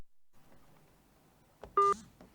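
Telephone keypad beeps: a short, sharp electronic tone stands out near the end after soft background noise, followed by a faint click, with no talking.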